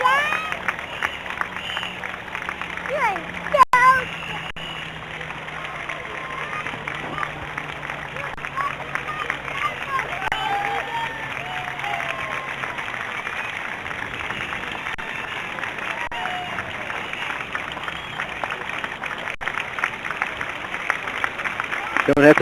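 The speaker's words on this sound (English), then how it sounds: "walking proudly Down the street now, getting a tremendous round of applause" Outdoor crowd applause and scattered cheering roll along a parade route for the 82nd Airborne Color Guard, a long, steady murmur of clapping under crowd babble and nearby voices.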